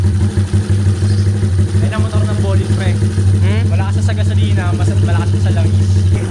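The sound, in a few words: motorcycle engine running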